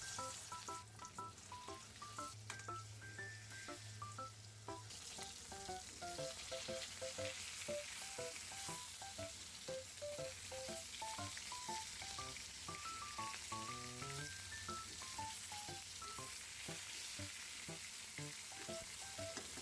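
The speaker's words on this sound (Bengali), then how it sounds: "এবার মাছগুলো ভেজে নেব।" Rohu fish fries in hot mustard oil after pumpkin lentil dumplings, a continuous soft crackling sizzle with small pops and occasional clinks of a spatula against the pan, steady and close with no talk.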